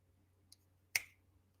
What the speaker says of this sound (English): I'm snapping my fingers.